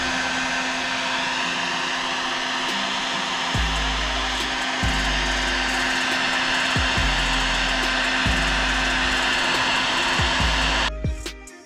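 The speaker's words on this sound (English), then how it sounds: "just gonna hit it with the heat gun until it starts to wrinkle up" A heat gun blows hot air over fresh wrinkle red spray paint, a loud, steady whooshing drone close by for about eleven seconds before it cuts off abruptly, with faint thumps along the way.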